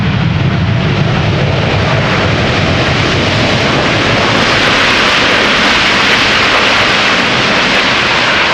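A Boeing 787 Dreamliner arriving from Philadelphia lands at Amsterdam Schiphol, its engines giving a loud, steady broadband roar that swells toward the end, with no voices.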